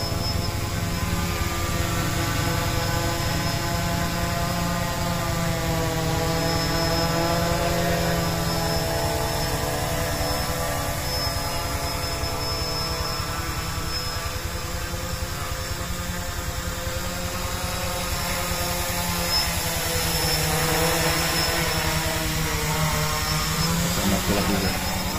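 A small drone built around an Arduino controller flies nearby, its propellers making a steady, loud buzzing whine with a shifting pitch that holds for the whole stretch.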